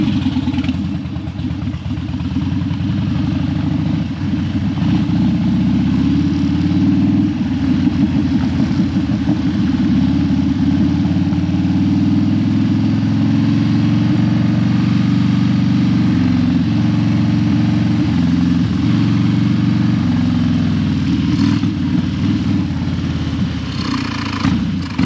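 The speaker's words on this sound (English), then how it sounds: "we're gonna take it for a little ride up and down the path and see if we can't get it to choke off" A Harley Dyna motorcycle with a fault that makes it stall when hot runs steadily, its engine giving a continuous loud, low rumble with slight fluctuations throughout.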